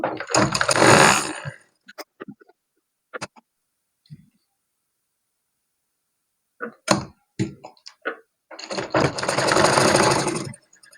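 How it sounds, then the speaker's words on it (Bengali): Sewing machine stitching a baby frock with double stitches, a loud whirring run at the start, short bursts and ticks in the middle, then another sustained run near the end, close up. "ডাবল সেলাই দিয়ে নিব"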